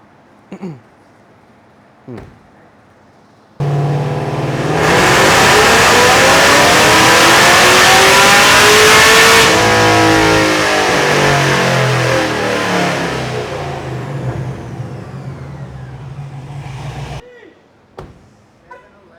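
A car engine on a Dynojet 224xLC in-ground dyno revs loud and long, climbing for several seconds and holding high before easing off and cutting out, with faint talk before and after.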